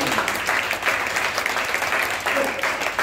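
A church congregation applauds and cheers for the Lord during a sermon, a steady wash of clapping at moderate distance with voices mixed in.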